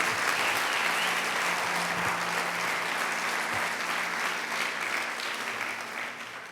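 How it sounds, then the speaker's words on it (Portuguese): A church audience applauds strongly and continuously at a worship gathering, a dense wash of clapping that tapers slightly toward the end. "Você pode aplaudir Jesus bem forte por isso."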